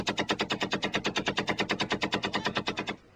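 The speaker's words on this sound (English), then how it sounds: "some of the Federal Army's equipment is distinctly vintage, like these Vickers machine guns introduced into the British Army in 1916" A vintage Vickers machine gun fires at a Federal Army camp, a loud close burst of about two dozen rapid, evenly spaced shots lasting nearly three seconds, then cutting off abruptly into a faint echo.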